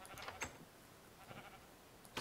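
Sheep bleating faintly in a farm setting, a few short distant calls spaced across the moment against a noisy background.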